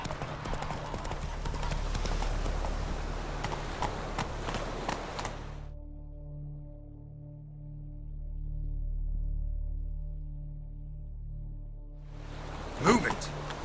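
A horse in The Witcher 3 video game gallops with rapid clip-clop hoofbeats for several seconds. The hoofbeats then stop, leaving a quiet low hum, and a voice speaks before a brief burst returns at the end.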